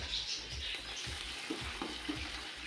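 Raisins and curry leaves frying in ghee over a low flame, a soft, even sizzle with gentle rhythmic stirring scrapes in the pan, close and fairly quiet.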